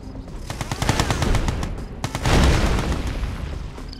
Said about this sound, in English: Efficient V3 launch unit. Missile launch confirmed.